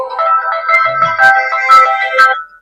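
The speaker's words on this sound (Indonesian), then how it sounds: "Telepon." Phone ringtone, a bright melodic electronic tune of several short pulsing phrases, loud and close, lasting a couple of seconds with no talk.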